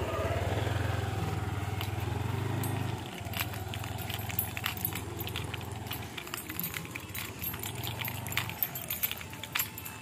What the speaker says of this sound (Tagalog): Ayan yung motor.